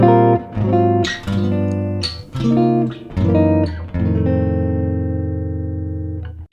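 Jazz guitar chord melody of Silent Night, measures 23 to 24: a sequence of sustained clean chords, several struck in turn, the last left ringing and slowly fading, played alone.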